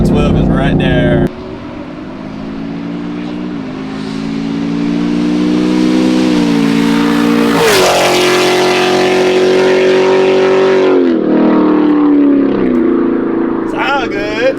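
A 2019 Chevrolet Camaro SS with a muffler delete and MSD 2-step drones loudly up close, its exhaust note climbing steadily as it accelerates, peaking sharply and then easing off before building again.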